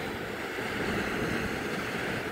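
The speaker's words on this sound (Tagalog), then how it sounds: "Ang alon ay isa-isa lang, pero malalim na yan dyan, guys." Open-sea ocean waves off Zambales make a steady, broad wash of surf mixed with wind noise on the microphone, fairly faint and with no one speaking.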